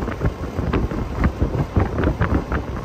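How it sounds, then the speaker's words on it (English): Air blowing unevenly from an AC system with an iced indoor coil and high head pressure, a steady whooshing rush that pulses in a rough whoop-whoop rhythm, close and moderately loud, with no talking. "I don't know if you can hear the wind, like the air is actually going whoop, whoop, whoop, whoop."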